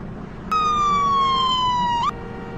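Emergency vehicle siren in a Roblox game, a single clean electronic tone that starts abruptly, holds for about one and a half seconds while slowly falling in pitch, then cuts off.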